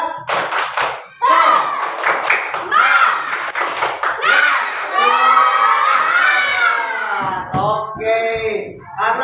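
A class of schoolchildren performs a rhythmic spirit clap, bursts of claps mixed with loud group chanting and shouting that swell and continue throughout, close and energetic.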